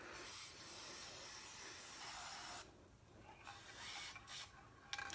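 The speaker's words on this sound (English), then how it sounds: "And I am just literally spraying" An aerosol can sprays sealant over the top and bottom of a stamped 4x4 craft tile, giving a steady close hiss for about two and a half seconds, then a few shorter bursts after a pause.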